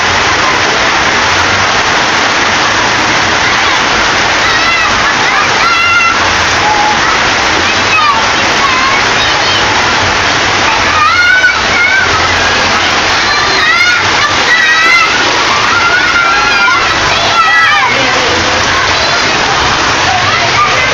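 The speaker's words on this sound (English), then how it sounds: "when it rains, it pours, no doubt." Heavy June rain pours down at Atlu-Bola, Pampanga, in the Philippines, a loud, constant roar of downpour and running water with occasional faint voices in the background.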